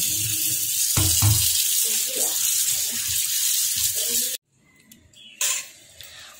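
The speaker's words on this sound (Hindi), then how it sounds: "तबे एबे साग को प्रथमे धोई नबा।" Pumpkin leaves are washed by hand under a running tap in a kitchen sink, a close steady hiss of flowing water with wet rustling and splashing that stops abruptly, then comes back in short bursts.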